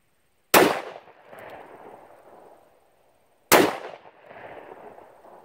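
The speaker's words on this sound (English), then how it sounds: "Rifle zipped right through it." Two loud, close rifle shots fired through bulletproof drywall, each a sharp crack followed by a ringing, decaying echo, spaced about three seconds apart with silence between.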